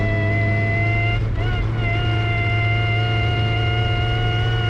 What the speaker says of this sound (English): it is really down on power right now. So it's barely running, barely making any power